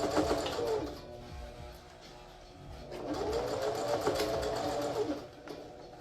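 A sewing machine stitches a quarter-inch seam along a fabric face mask, running in two steady bursts with a brief slowdown between them, close and fairly loud, with no talking.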